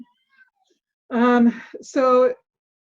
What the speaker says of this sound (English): my cat's starting to meow if anybody hears her